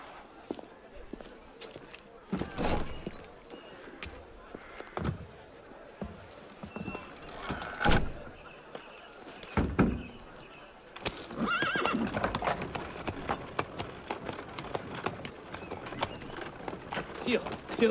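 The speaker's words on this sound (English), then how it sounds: "Well, that's a nice horse." Horse hooves clip-clop and a horse neighs in the Assassin's Creed Unity video game, with hoofbeats rising and falling against game ambience and occasional louder snorts and whinnies, fairly close.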